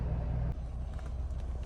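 A Mahindra Thar 2020 SUV with a 5-inch lift kit rumbles low as it pulls away, a steady near engine drone that shifts slightly partway through.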